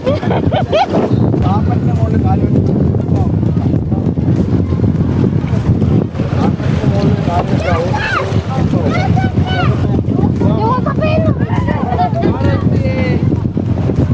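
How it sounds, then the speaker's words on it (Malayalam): Glass-bottom boat heading out at sea off Lakshadweep, a steady rumble of engine, wind and water running throughout, with people talking over it. "അപ്പൊ ഗ്ലാസ് ബോട്ട് റൈഡിലോട്ടാണ് ഞങ്ങൾ പോയിക്കൊണ്ടിരിക്കുന്നത്"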